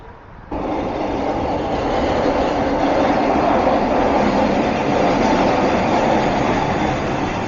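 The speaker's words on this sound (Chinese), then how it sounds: "刚好趁着意外的搭一趟 SkyTrain 嘛" A steady, loud rumble of a Vancouver SkyTrain metro train in motion, constant wheel and rail roar heard from inside the carriage.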